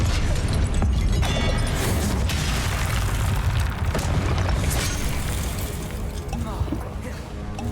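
The Incendio fire spell is cast in Hogwarts Legacy, a dense roaring whoosh of flame with crackling bursts that stays loud throughout and slowly eases toward the end.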